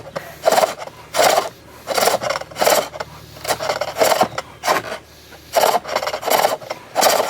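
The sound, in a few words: turning tool cutting wood shavings on a bowl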